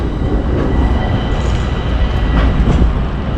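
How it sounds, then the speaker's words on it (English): A train rumbles steadily at Florence train station, a loud continuous roar of rolling wagons with faint rhythmic clatter and no talk. "Train station."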